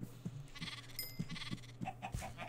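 Minecraft sheep bleat in short repeated calls over a steady low game hum, several wavering bleats spaced through the moment with small taps in between.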